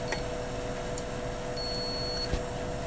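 A multimeter gives a continuity beep as its probes touch a refrigeration compressor pin and the copper line on a compressor shorted to ground. A brief chirp comes first, then a sustained high tone lasting under a second, over quiet background hum.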